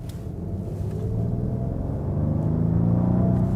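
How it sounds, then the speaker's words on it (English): Inside a 2016 Rolls-Royce Wraith, the engine rises into a deep, smooth rumble under throttle, a steady low drone building gradually and heard close from the cabin with no talk over it. "I can now also push the throttle. Yeah, there you hear it."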